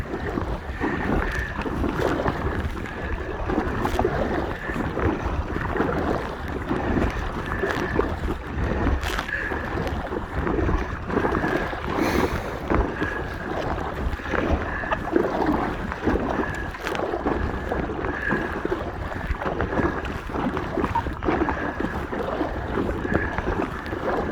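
Steady wind roar and choppy water slapping against an Aqua Marina Steam 412 inflatable kayak on Loch Lomond in a strong headwind, continuous and fairly loud throughout, with buffeting gusts hitting the microphone.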